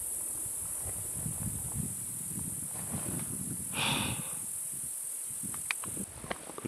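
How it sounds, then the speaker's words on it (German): Steady shrill cricket chirping fills a hiking trail on Kárpathos, Greece, with crunching footsteps and rustling below it and a short breathy burst partway through. "außer zirpenden Grillen nichts."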